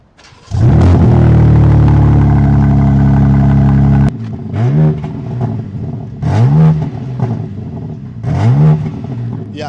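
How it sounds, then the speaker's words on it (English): A 2025 BMW M4 Competition engine fires up from cold with a loud roar and holds a high idle, then is revved repeatedly in sharp rising bursts. "let's get a cold start"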